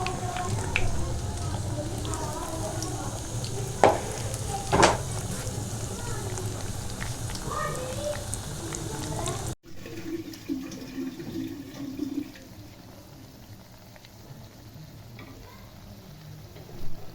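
Methi tikkyan, sweet crisp fenugreek patties, fry in desi ghee with a steady soft sizzle and occasional stirring clinks, the bubbling quieter in the latter half, with a voice speaking over it at times.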